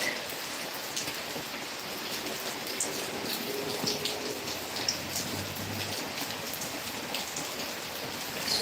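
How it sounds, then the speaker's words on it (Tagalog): Rain falls steadily on surfaces close by, a constant soft hiss with scattered drips and patters throughout and no voices. "It's raining. It's raining."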